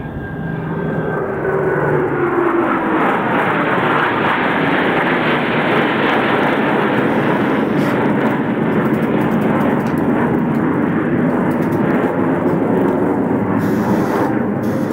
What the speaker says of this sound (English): They will roll their aircraft 360 degrees, crossing center point.